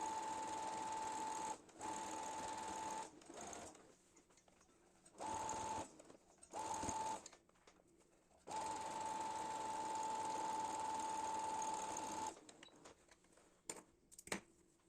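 Sewing machine stitching the side hem of cotton pants, fast rattling runs of stitching that start and stop in several bursts, with a long steady run in the middle and quiet handling noises between.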